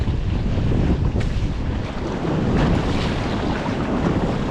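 Small boat launching through rough, choppy surf, with loud continuous churning water and heavy wind buffeting the microphone, close and without speech.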